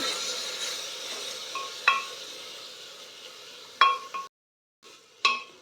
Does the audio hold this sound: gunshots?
no